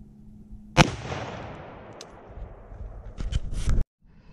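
An AR-15 rifle fired at a ceramic tile target, one sharp loud report that rings out and decays over a few seconds, followed by faint rustling and clicks before a sudden cut.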